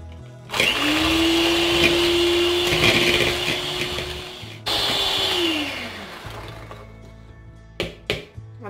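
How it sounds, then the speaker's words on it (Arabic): Electric mixer whipping sugar and eggs for tiramisu, a loud steady motor whine that briefly stops, restarts, then winds down, followed by a few clinks. "عندي 100 غرام ديال السكر سنيده، وغادي نطلعو بالباتر يعني حتى غادي يولي اللون ديالو فاتح"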